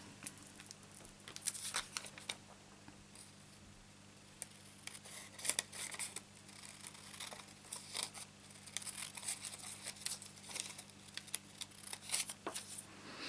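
Scissors snip through a folded paper doily for a handmade card, giving a quiet series of irregular crisp cuts and light paper rustling at close range, with no talking.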